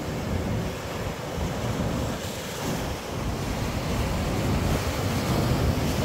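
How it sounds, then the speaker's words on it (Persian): Atlantic Ocean surf rolling in at Las Palmas in the Canary Islands, a steady loud wash of breaking waves mixed with wind buffeting the microphone, continuous throughout with no voices. "این موج چطوری میاد."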